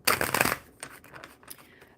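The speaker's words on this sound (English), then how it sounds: "So I'm going to shuffle these cards up. These ones are the Tarot." Tarot cards being shuffled by hand, a loud, close burst of riffling at the start that settles into softer, scattered card slides and taps.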